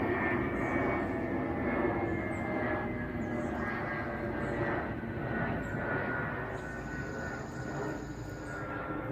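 A Bombardier Challenger 650 business jet passes overhead, a broad, steady jet roar that holds for several seconds and eases slightly at the end.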